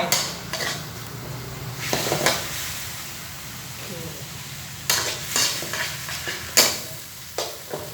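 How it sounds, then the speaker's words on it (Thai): Minced pork and beef with basil stir-fried over high heat in a wok, bursts of sizzling punctuated by sharp scraping and clanking of a metal spatula against the pan, irregular and close. "ทีนี้เราก็ผัดแรงๆเลยเร่งไฟ"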